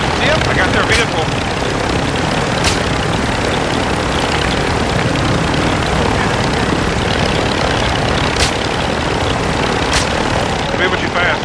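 Helicopter in the Call of Duty video game, a steady loud rotor and engine drone running throughout amid gunfire-like cracks and battle noise.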